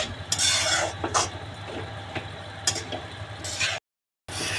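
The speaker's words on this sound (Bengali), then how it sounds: "এখন আমি গাজরটা ভালোভাবে নাড়িয়ে নেব, ভালো করে মিক্স করে নেব গাজরটা।" Grated carrots are stirred in ghee in a pan: repeated scraping strokes of a spoon over a soft sizzle, close and fairly loud, with a brief gap near the end.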